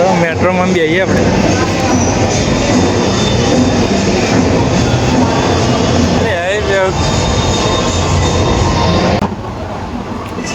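Rumbling interior of a moving metro train with steady wheel and motor noise throughout, a squeal rising briefly near the start and again mid-way, and the noise dropping at the end.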